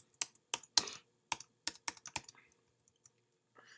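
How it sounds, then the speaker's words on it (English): Computer keyboard keys clatter in short bursts of close typing, a quick run of clicks followed by a few scattered taps in an otherwise quiet room. "let's go ahead and type our Pix Gallery"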